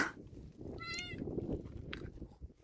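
A cat gives a short, faint meow in a quiet camp setting during a motorcycle trip through Afghanistan, one brief call near the start of the second with low background rumble.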